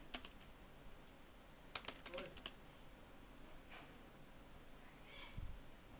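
A code comment for a Python tutorial is typed on a computer keyboard as faint, sparse clicks in a few short bursts, quiet against a soft room hiss.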